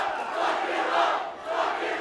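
A wrestling crowd at a Juggalo Championship Wrestling show roars and chants in swelling waves, a loud, dense mass of voices filling the hall.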